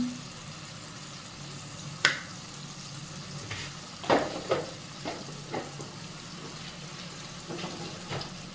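Cumin, coriander and chili powder sauté in a pan with a soft, low sizzle, broken by a few sharp scrapes and taps of stirring close by.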